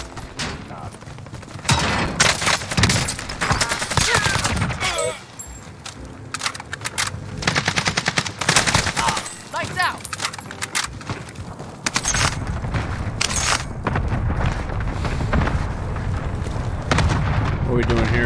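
Rapid AK-47 bursts crack through a Warzone battle royale match with a Cursed Angel anime-styled AK47, dense loud automatic fire with booms and game effects, under steady player talk.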